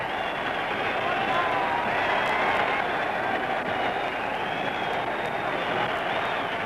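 An outdoor boxing crowd roars steadily in 112-degree heat as heavyweight Jess Willard arrives in the ring, a dense continuous wash of cheering and clapping without clear breaks.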